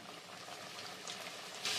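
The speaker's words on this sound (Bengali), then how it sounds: "আমার তেলটা খুব ভালো করে গরম হয়ে গেছে। এবারে আমি কোট করা ময়দার উপরে কোট করা চিকেনগুলো দিয়ে দেব একটা একটা করে।" Flour-coated chicken popcorn pieces sizzling and bubbling in hot oil, a soft steady frying hiss with a brighter crackle near the end.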